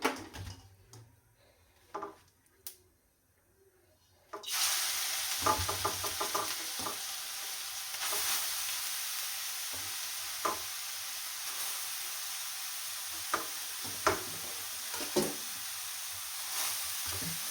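Grated beetroot drops into hot ghee for halwa: a few soft knocks in near quiet, then a sudden loud, continuous sizzle that keeps going under repeated scraping and tapping of a stirring spoon.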